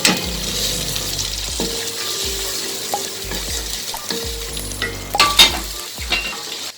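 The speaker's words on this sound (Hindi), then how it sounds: "हांडी में 1 कप घी डाल लें। अब हम इसमें डालेंगे प्याज।" Onions frying in ghee in a handi pot, a steady crackling sizzle close up with scraping spoon strokes and occasional clinks against the pot, no talking.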